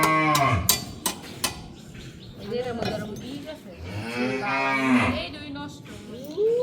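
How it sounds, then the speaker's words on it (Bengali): A hungry cow bellows for food, several loud, drawn-out moos close by, rising and falling with short pauses between calls, over faint farmyard background noise. "আর এদিক দিয়ে আমাদের গরু চিৎকার ফাটতেছে খাবার খাওয়ার জন্য।"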